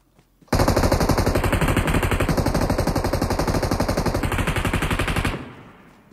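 Rapid automatic gunfire from a battle-royale video game, a loud sustained burst of closely spaced shots lasting about five seconds before cutting off abruptly.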